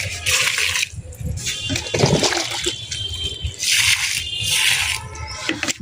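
Water is poured onto the soil of a potted tulsi plant on a terrace garden, heard as repeated bursts of splashing and trickling that swell and fade over several seconds, close to the microphone.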